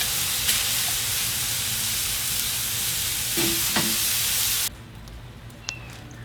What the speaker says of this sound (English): I moved the burgers to the other side of the grill to melt the cheese a little more gently so it's not right over the fire.